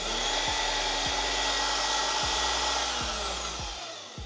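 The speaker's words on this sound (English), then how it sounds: "I'm gonna use this bandsaw to cut parts before I weld them together" A shop bandsaw, switched on with a foot pedal, runs with a steady motor whine and blade hum, close and loud throughout, then winds down slightly at the end.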